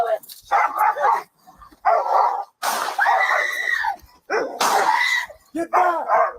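A pit bull barks in repeated loud, close bursts during an attack on another dog. Agitated shouting voices overlap the barking throughout.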